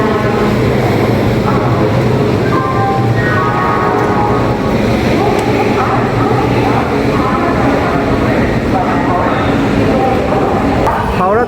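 The Howrah–Bardhaman chord-line train pulls out of Howrah station with a loud, steady rumble layered with tonal whines and hums. Background voices are mixed into the dense noise throughout.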